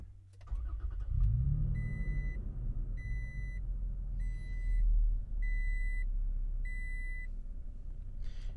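A 2020 Toyota Tacoma TRD Pro is started by push button: a cranking catch as the engine fires up into a steady rumbling idle, heard from inside the cab while a chime sounds in five evenly spaced beeps.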